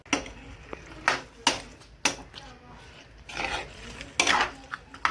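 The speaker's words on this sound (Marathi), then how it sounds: "थोडंसं मसाल्यामध्ये हलवतो आपण" A spoon clatters and scrapes against a cooking pot, stirring masala for a village-style fish curry, in sharp irregular knocks close by with some talk between them.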